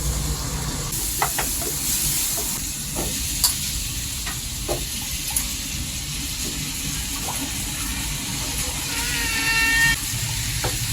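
Onions and tomatoes sizzle steadily in a pan while being sautéed for a Tamil home-style dish, with light scraping and clinking from a stirring spoon throughout, up close and with no talking.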